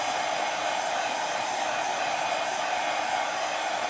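A hair dryer blows steadily on chalk paste coating a glass vase, a loud, constant close-up whoosh with no pauses and no talking.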